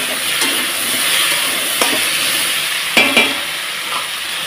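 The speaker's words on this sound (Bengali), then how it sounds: "তো দেখুন ভাজতে ভাজতে কচুগুলোকে আমি সুন্দর একদম লাল করে নিয়েছি" Taro pieces frying in a pan hiss with a steady, loud sizzle, broken by a few louder spits and the scrape of stirring. No one speaks.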